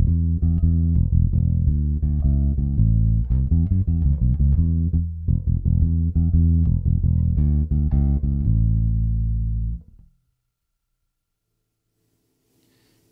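Bass guitar with a modern rock tone and a slight low-mid boost, playing a busy, punchy riff of deep, thick notes for about ten seconds before a final held note cuts off into near silence.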